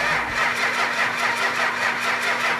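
A 400 Magnum engine cranks briefly, then catches and settles into a steady, loud running rumble, close by with no talking.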